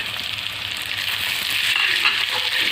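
Onions and tomatoes with turmeric fry in a pan and are stirred, giving a loud, continuous close sizzle with soft scraping movement throughout.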